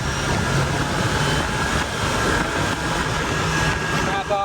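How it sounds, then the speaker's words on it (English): Rebuilt 1.8 Mazda Miata engine pulling hard at full throttle in third gear under heavy load, a loud continuous droning roar heard from inside the car, holding steady and dipping briefly at the end. "we're going to do some heavy pulls in third gear from like 2200 all the way up, full throttle right now."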